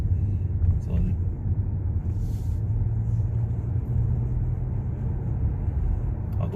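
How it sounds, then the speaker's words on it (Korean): A Hyundai Grandeur IG 2.4 hybrid drives on a road, heard from inside as a steady low cabin rumble with road noise while someone talks over it. "와, 진짜 하이브리드가 이렇게 잘 나가도 됩니까?"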